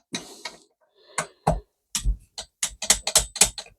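A ratchet tightening the front brake disc bolts on a motorcycle, giving a series of short sharp clicking bursts close up, sparse at first and then quicker and denser toward the end.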